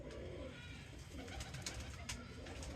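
Champion-breed pigeons coo in a low, steady murmur, several birds overlapping continuously at close range with faint background noise.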